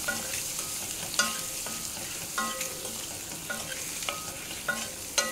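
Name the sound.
frying eggs with chili powder on medium flame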